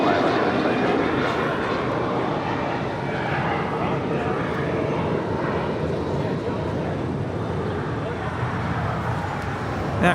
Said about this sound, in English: That Gulfstream G550 is departing to White Plains, New York.